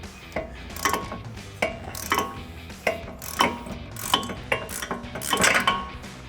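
Ratchet with socket and extension loosening rear wheel bearing bolts on a 2015-2025 Ford Mustang, a close run of sharp metallic clicks in short repeated pulls with brief gaps, alone without speech.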